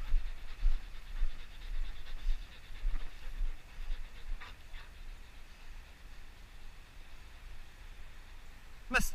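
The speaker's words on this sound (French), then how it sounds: "C'est bien mon chien." A dog, a Berger shepherd breed, pants steadily during a training session, with soft breathy rhythm and faint whimpers close to the microphone, under light background noise and a brief sharp sound at the end.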